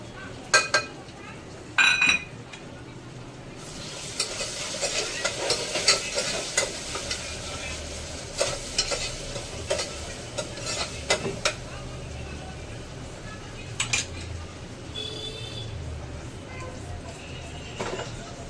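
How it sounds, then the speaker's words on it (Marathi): Chopped tomato tipped into a hot pan of spices for masoor dal, sizzling steadily while a spoon stirs and clinks against the metal, with a few sharper scrapes and knocks throughout. "आता मी हा टोमॅटो ॲड करते."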